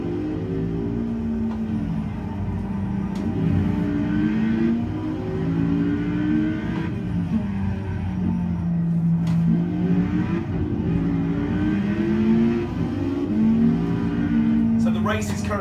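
Racing car engines roar around the Monaco street circuit in Project Cars, with loud sustained revving that rises and falls through gear changes as a chrome Porsche leads the field.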